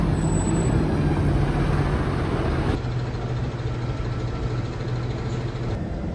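Route 102 city bus pulling away on a street in Magan, its engine a loud steady rumble close by, a brief hiss and shift partway through, then the drone continuing evenly with no voices.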